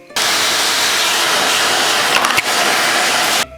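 Steady broadband roar of a household vacuum cleaner running continuously and fairly loud for a few seconds, with a brief bump in the noise partway through before it cuts off.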